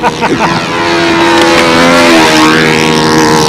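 A model P-51 plane's engine drones loudly and continuously in flight, its pitch sliding as the plane passes, with people talking nearby.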